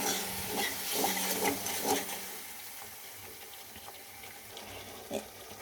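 Kitchen tap water rinsing a bowl while cooking Bengali fish curry, a steady close rush and splash that eases off and thins to quieter trickling and a faint clink near the end.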